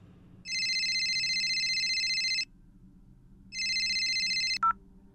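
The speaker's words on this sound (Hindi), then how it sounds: "मैंने सोचा कि मिसेस कपूर को फोन करूं, जो इस घर की लास्ट ओनर थी।" Outgoing telephone call ringback: two long electronic ring bursts separated by a pause, then a brief click as the line picks up, fairly clean and close.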